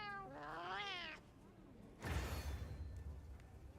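A small cat companion in a monster-hunting video game gives a rising, wavering meow, followed by a loud whooshing burst of game effects.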